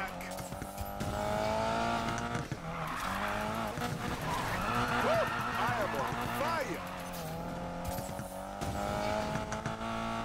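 A Subaru BRZ drifting in Need for Speed Payback, with long wavering tire squeals and engine revving that run continuously over several seconds while someone talks over the action.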